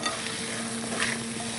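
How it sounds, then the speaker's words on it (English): Hot toasted pecans sizzling in a pan as they are stirred and coated, a continuous crackling fry with faint scraping, steady and close with no voices. "As I coat them all, stirring the stuff all over them. Sizzle, sizzle."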